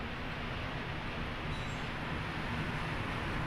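A Taipei MRT train heading toward Taipei Zoo passes with a continuous broad rumbling hiss, even and fairly loud throughout, with a faint high squeal briefly surfacing midway.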